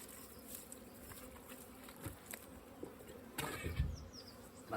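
Bees around a flowering hawthorn: a quiet, close outdoor hum of several insects, with individual buzzes passing near and fading, and a louder pass toward the end.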